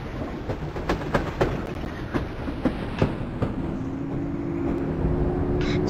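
Low-floor tram running on rails in a Roblox game, with rhythmic clickety-clack wheel beats over a steady rolling rumble, then a smoother hum as the clacks fade, with no talking.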